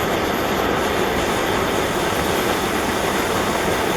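A C Wells paraffin flare lamp, not yet at full temperature, burns vaporised paraffin with a steady, loud, broadband roar like a jet of gas, unbroken throughout.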